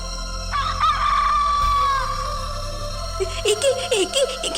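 A story sound effect of a chicken, with a drawn-out crowing cry followed by rapid clucks, loud and close over a steady low background hum.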